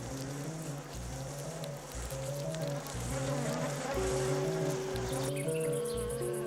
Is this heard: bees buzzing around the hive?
yes